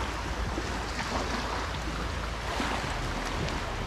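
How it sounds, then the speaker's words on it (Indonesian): Water flowing in a small stream near Marina beach in Jepara, a steady broadband rush and gurgle with some wind buffeting the microphone, continuous and fairly close, with no voices. "sungai kecil nih."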